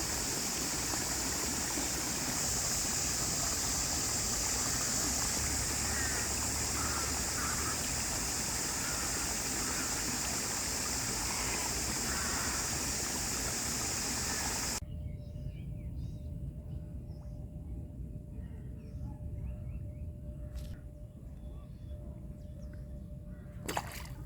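Water flowing gently at a large pond after rain, a steady rushing wash that fills the first fifteen seconds, then gives way to quieter ambience with faint chirps and a steady tone.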